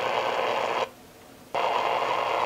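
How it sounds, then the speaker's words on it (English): A Retekess TR638 shortwave radio tuned to AM picks up interference from a nearby tower: a steady, dense buzzing hiss that drops out for under a second before resuming just as strong. "You can hear that interference coming in from that tower"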